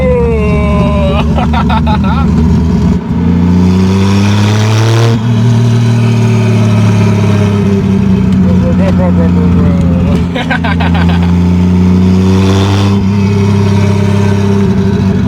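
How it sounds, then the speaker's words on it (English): A 1987 Toyota Supra with a turbocharged 2JZ-GE swap revs hard twice, the pitch climbing and falling with each pull over a steady idle, loud and close, with voices murmuring underneath. "Dude, the turbo sounds so good, bro."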